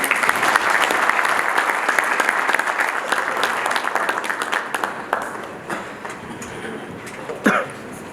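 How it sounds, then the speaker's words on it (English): Sustained round of applause from a conference audience after keynote speakers, loud and dense at first, then thinning and fading over eight seconds. "One round of applause, please."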